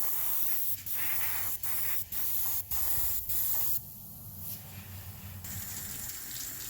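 Airbrush spraying acrylic paint onto an HO scale GP9 locomotive, a close steady hiss broken by short pauses between passes, then a quieter, thinner spray.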